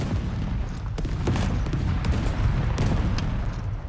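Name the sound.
gunfire in a video game battle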